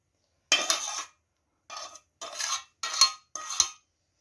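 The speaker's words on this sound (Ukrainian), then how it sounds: "Теж її мішаю гарненько зараз" Stuffing mixture of rice and fried vegetables stirred in a pan for stuffed peppers, five short scraping, clinking bursts of spoon on metal with brief pauses between, close and fairly loud, no talk.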